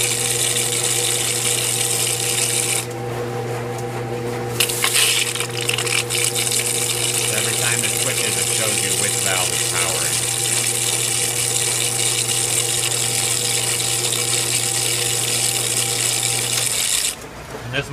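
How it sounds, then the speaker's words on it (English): Water-testing machine fitted with Elbi valves running steadily, a continuous pump-and-water hum with a strong low tone and hiss, briefly shifting as the valves switch cleanly; no talking. "This machine runs fine, but normally I'd be looking for it to start sputtering"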